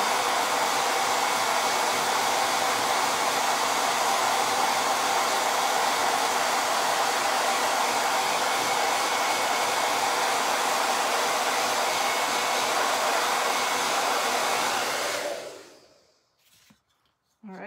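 A hair dryer drying a craft piece blows steadily and loudly up close for about fifteen seconds, then cuts off, leaving a few faint clicks.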